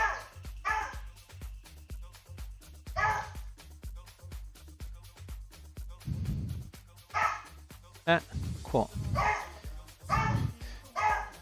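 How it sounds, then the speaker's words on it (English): A female dog barks in repeated loud, sharp bursts at close range, the volleys separated by short pauses, with a few brief spoken words between them. "she's barking up a storm beyond normal"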